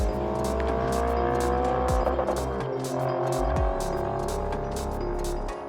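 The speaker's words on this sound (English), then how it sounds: "Mated with a 6-speed manual transmission and a howling V8, this car is a real driving sensation." An Audi RS4 B7 with a V8 and six-speed manual roars loudly and continuously, its engine note rising and falling through gear changes, with a brief tire chirp midway and no talking.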